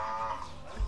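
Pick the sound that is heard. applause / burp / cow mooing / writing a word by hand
cow mooing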